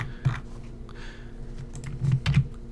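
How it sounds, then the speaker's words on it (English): A computer keyboard is tapped while working in LEGO Digital Designer: a few close, soft clicks, with a pair of quick keystrokes near the end, alone and without speech. "I can press the delete key on my keyboard"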